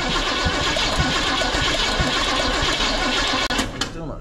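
A 1971 Chevrolet C10 pickup's engine cranks continuously without catching: a fast, rhythmic starter churn, loud and close, running for several seconds before it cuts off abruptly.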